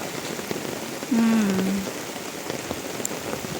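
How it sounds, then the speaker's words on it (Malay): Steady rain patters across a surface at a campsite in a constant hiss, with a short tonal sound rising briefly over it in the middle. "Tiba-tiba hujan."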